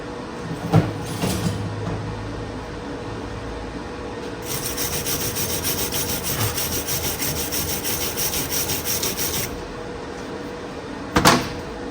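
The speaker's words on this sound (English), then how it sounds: "We'll give that a wire brush." A wire brush scrubs a fresh weld on a steel scraper bar in steady back-and-forth strokes, a gritty, rasping sound lasting several seconds, with a couple of sharp knocks around it.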